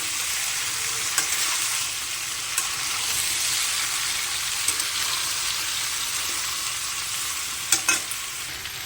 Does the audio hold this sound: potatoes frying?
yes